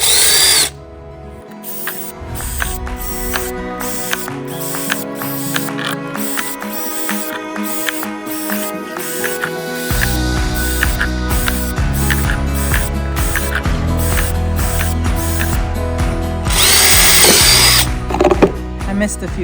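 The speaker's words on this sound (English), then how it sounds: "Our PVC is cut, the holes are drilled" Power drill boring a series of drain holes in PVC pipe for a hanging strawberry planter, loud close whirring bursts with squealing starts and stops, repeated many times in quick succession.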